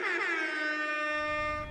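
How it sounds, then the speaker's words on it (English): A single sustained air horn blast, a steady loud tonal blare lasting under two seconds, close and alone. "air horn."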